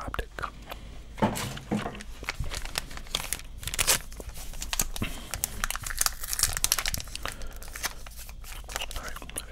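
Thick plastic baseball card pack wrapping crinkles and crackles in close, irregular bursts, with some tearing sounds and quiet speech underneath.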